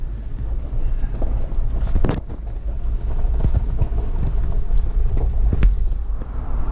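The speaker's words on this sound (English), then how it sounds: "we are doing 50 miles an hour so you can hear about what the sound decibel is inside" Steady interior road noise inside a Jeep JL cruising at 50 mph with the radio off: continuous low rumble and wind roar throughout, with a few brief knocks and clicks over the top.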